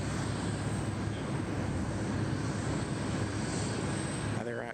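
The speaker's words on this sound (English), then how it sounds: "There's our Speedbird friends, our friends from London, just arriving there on runway 34 left." British Airways airliner arriving on runway 34 left at Sydney Airport, a steady, loud broadband jet roar that holds constant throughout before cutting off abruptly at the end.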